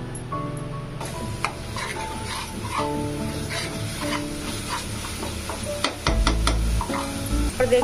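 Masala spices frying and being stirred in a pan for a lobia masala curry, with steady sizzling under scraping spoon strokes and clatters throughout, close and fairly loud.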